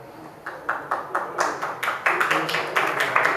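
An audience at a Jain religious discourse clapping together, starting sparse and building into steady, fairly close applause with distinct individual claps.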